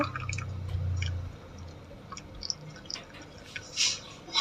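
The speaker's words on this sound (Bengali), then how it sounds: "এরকম করে আমি জলটা ঝরিয়ে নেব তারপরে তো গামলাতে ঢেলে দেব" Water drips and trickles off boiled banana flower being drained in a kitchen, with a low sloshing at first and then scattered drips and small splashes.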